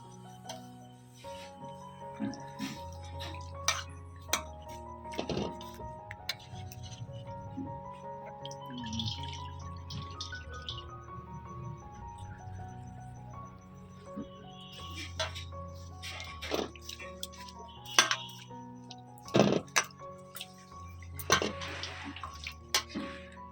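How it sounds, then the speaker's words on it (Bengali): Bottle gourd leaves rinsed in lukewarm water in a kitchen, with soft splashing, drips and clinks of handling spread through the scene, moderately close, with no speech. "হালকা গরম জলে লাউ পাতাগুলো একটু ধুয়ে নেব।"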